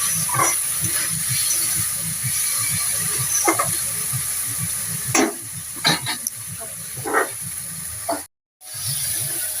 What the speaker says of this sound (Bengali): মশলা দিয়ে গেছে ভাজা